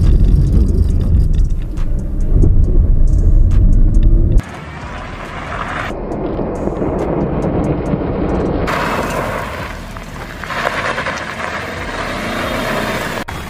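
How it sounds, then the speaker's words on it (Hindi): A Maruti Brezza reverses at around 20–30 km/h, its engine and road rumble loud and close, with abrupt shifts in tone as it moves during drifting practice. "रिवर्स में हम जा रहे हैं, पीछे देखते हैं ट्रैफिक तो नहीं है"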